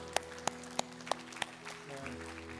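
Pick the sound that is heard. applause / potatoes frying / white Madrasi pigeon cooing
applause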